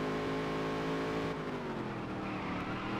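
Race car engines roar continuously in a Featherlite Modified Series racing game, a dense steady drone of several cars with engine pitch sliding down partway through, no talking over it.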